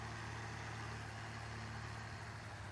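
White tractor engine in Farming Simulator 19 running steadily at a low, constant hum, with a silage loading wagon in tow and no voices.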